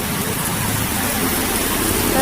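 Steady rain falling outdoors near a church, a constant close hiss of drops on surfaces that continues without pause.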